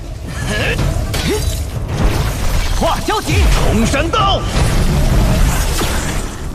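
An explosion in an animated fight scene between two clashing powers: loud broadband bursts and crashing impacts come in quick succession, mixed with shouting voices and rising effect tones.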